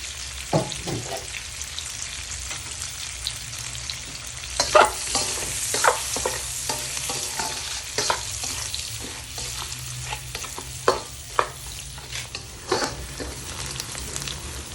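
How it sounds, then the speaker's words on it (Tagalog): Chopped garlic and onion sizzling in butter in a pan, a steady soft frying hiss broken by repeated sharp scrapes and clatters of a spoon stirring, close and moderately quiet. "Pagsasabayin ko na yung bawang at sibuyas."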